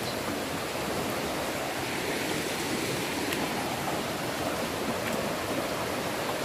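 Floodwater rushes over an asphalt street on Jalan Matahari in Kampung Bugis, Tarakan, after a few hours of rain. The sound is a steady, dense wash of flowing water that continues evenly throughout, with no voices.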